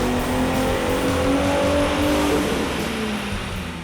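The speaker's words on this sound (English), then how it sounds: "Now let's make another dyno run and see what kind of horsepower and torque numbers we get." A 2005-2009 Ford Mustang V6 fitted with an Airaid cold air intake and a performance tune roars on a chassis dyno, a loud sustained engine drone that climbs in pitch, then eases slightly near the end.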